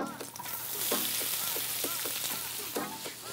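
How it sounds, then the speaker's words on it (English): Chopped onion and garlic caramelizing in olive oil for a green plant-based lasagne, a dense, bright sizzle with soft rhythmic stirring strokes through the pan, close and continuous. "Now we chop up our onion and our garlic and caramelize them off."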